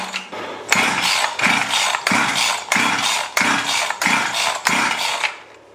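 A Husqvarna 346XP chainsaw engine running after repair, revving in a steady pulsing rhythm of about eight loud surges, close up, without speech.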